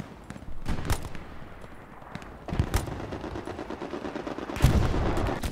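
Gunfire in the video game No Man's Land: rapid bursts and single shots crack repeatedly, some near and loud, others farther off, with a steady rattling battle backdrop and no talk.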